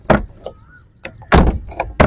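The door of a 1985 Suzuki FX car is opened and shut several times, giving loud, close thumps and latch clunks with short pauses between them.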